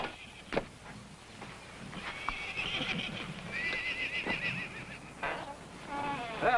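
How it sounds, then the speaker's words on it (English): A horse whinnies several times in long, wavering calls, with hoof clip-clops and knocks nearby against a steady background hiss from a 1955 television episode. "Hey, now, there's a real horse."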